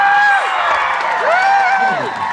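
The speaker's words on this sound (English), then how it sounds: "Let's get a round of applause for Chelsea and Camille." Live show audience cheering for performers, with rising and falling whoops and shouts over a bed of crowd noise and scattered clapping.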